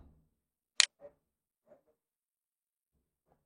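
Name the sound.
computer mouse scroll wheel ticking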